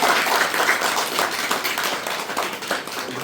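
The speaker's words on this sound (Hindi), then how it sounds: "और एक साथ ताली बजाएं आप लोग।" A church congregation in Ranchi claps together in a steady, dense round of applause that carries on throughout, with no talk over it.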